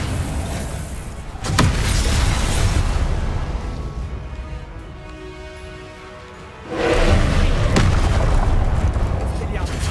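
Confringo blasting spells explode in the Hogwarts Legacy video game with heavy, roaring booms and crackling bursts over a dense rumble of game noise, and a voice speaks over the action.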